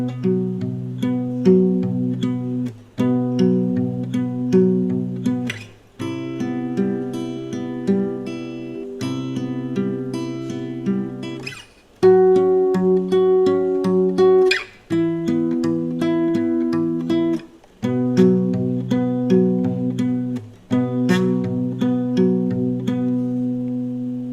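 Acoustic guitar plays a chord progression, strummed and picked chords ringing in steady phrases with brief gaps between sections, close and clear with no voice.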